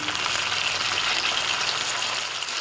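Potatoes frying in very hot oil, seasoned with salt, for a Bengali chicken dish: a steady, dense sizzle with crackling bubbles that holds at an even level throughout, close and with no talk over it.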